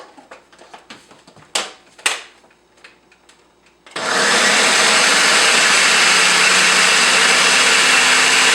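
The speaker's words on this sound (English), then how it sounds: "Then you take the heated cauliflower and put it in the blender." Countertop blender switches on and runs loudly and steadily, whirring through heated cauliflower after a few clatters and knocks as it is loaded.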